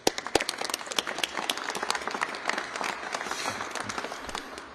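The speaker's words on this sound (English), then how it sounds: "Would you please give him a warm round of applause?" Audience applause at a Minneapolis press event welcoming a city council member, a few sharp claps at first swelling into steady, moderately distant clapping from a small crowd.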